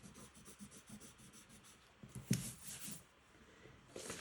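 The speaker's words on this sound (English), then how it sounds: "So now I can erase this part" Pencil lines on a drawing are rubbed out with an eraser: quiet, close, rhythmic scrubbing strokes with one sharper scrape midway, no voices.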